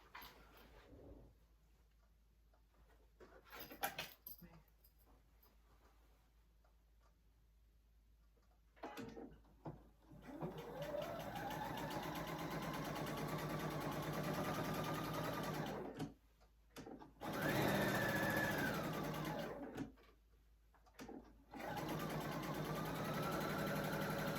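A sewing machine topstitches an eighth of an inch from the edge of a zipper project bag, quiet handling and clicks at first, then several sustained runs of whirring motor and needle with brief pauses between them.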